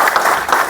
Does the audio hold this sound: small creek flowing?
no